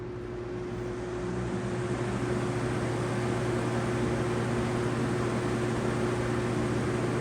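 A Lasko 3733 electric box fan from 1997 runs in a window, giving a steady close broadband whoosh of moving air with a low, constant motor hum underneath and no speech.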